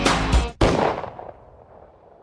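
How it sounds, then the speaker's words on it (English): Gunshot sound effect closing a track: a loud, sharp blast with a brief gap and second burst, then a long fading reverberant tail trailing off into quiet. "The track ends with the sound of a gunshot."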